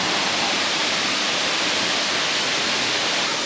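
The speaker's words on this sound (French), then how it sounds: "Il y a longtemps qu'on avait vu une cascade aussi jolie que ça." A large waterfall in Australia roars in a steady, dense wash of white noise, loud and close with no break across the whole span and no voices over it.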